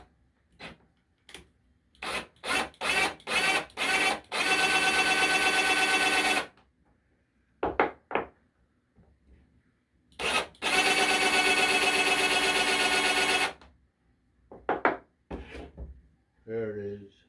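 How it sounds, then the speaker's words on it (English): A countersink bit drills into wood, giving two sustained loud whirring bursts of a few seconds each, set among scattered short clicks and handling knocks. "a countersink, just to get a little more depth."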